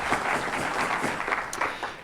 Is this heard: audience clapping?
yes